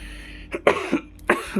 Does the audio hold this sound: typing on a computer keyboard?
no